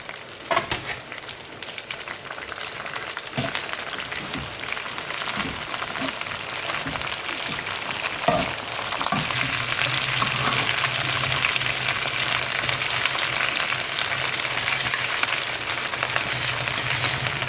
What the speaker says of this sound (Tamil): எண்ணெய் காஞ்சிருச்சு இப்போ கருவேப்பிலை போட்டுக்கிறோம்